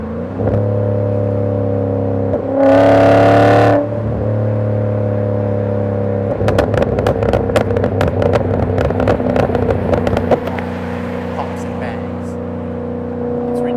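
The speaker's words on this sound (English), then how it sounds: "Oh man, this exhaust sounds so good." Volvo S80 V8 with a custom exhaust revving hard while parked, a steady deep idle rising into a loud roaring blip, then a long run of sharp crackles and pops before settling back to a rumbling idle.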